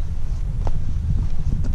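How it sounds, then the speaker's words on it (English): Steady low rumble of wind buffeting the microphone outdoors in high mountains, constant and moderately loud with no speech. "It's a little windy."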